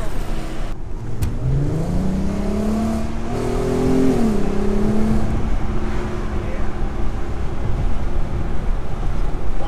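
A car engine revving up after its clogged air intake was cleaned, rising and falling revs under steady wind noise outdoors, fairly loud and close.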